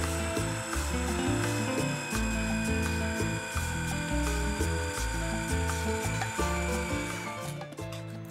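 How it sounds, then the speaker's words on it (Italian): A blender whirs through milk, chocolate and hazelnut cream, a loud continuous motor whine with rhythmic pulsing grinding as the ingredients churn, with no talk. "e continuiamo a frullare fino a che non abbiamo assolutamente terminato questi ingredienti"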